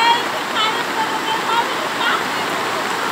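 Flash-flood water rushing through Waiheru in Ambon, a steady broadband roar of fast-moving water with surging waves, with excited voices calling out over it throughout.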